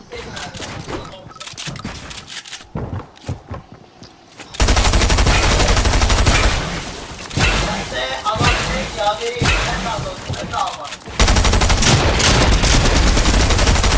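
Rapid bursts of automatic gunfire and single shots from a Fortnite match, loud and close, coming in dense volleys with brief gaps and heavy stretches of sustained firing, with a player talking over the shooting.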